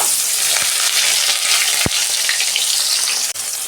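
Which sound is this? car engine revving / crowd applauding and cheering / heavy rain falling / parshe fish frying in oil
parshe fish frying in oil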